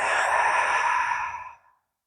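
A single deep, slow exhaling breath during a yoga tummy-breathing exercise, a soft airy sigh close to the microphone that fades out over about a second and a half.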